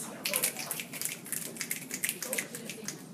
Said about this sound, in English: Snaps.